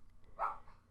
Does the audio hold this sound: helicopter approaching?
no